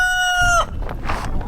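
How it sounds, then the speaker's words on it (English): A rooster crows once, a loud, close, drawn-out call that cuts off sharply, followed by softer clucking and rustling in a garden. "you're a very good rooster"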